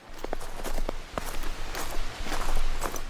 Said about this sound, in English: And as you go south, it's softer and not as loud.